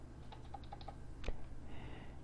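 Close computer keyboard typing, a quick run of light, separate key clicks followed by one sharper tap, all quiet over a low room hum with no talking.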